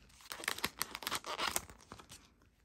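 A package of photocards is torn open by hand, several short bursts of paper or plastic ripping and crinkling, close but quiet, fading at the end.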